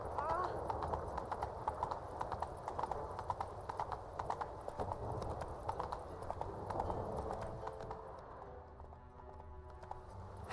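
Roach the horse gallops in The Witcher 3, with rapid, rhythmic hoof clip-clops over a game soundscape. A voice speaks briefly, and the hoofbeats fade near the end.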